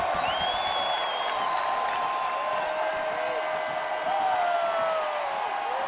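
An arena crowd at a Penguins–Rangers hockey game roars and whistles in a sustained, loud swell after goalie Zatkoff's big save on Stalberg, with a commentator's voice running over it.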